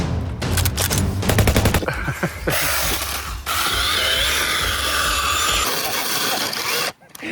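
A battery chainsaw cuts through a log, a loud harsh buzzing whine with rapid chattering pulses at first, then a sustained high-pitched grinding drone that cuts off abruptly near the end.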